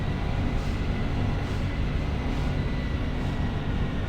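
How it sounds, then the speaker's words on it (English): A steady, loud rumble from a Grandia role-playing game, resembling a train locomotive, holds at an even level without pause or talk. "It sounded kind of like a train's locomotive."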